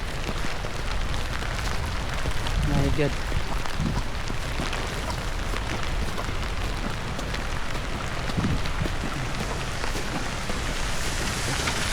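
Heavy rain pours steadily over flooded farm fields, a dense, unbroken hiss and patter close by, with a brief exclamation from a voice partway through.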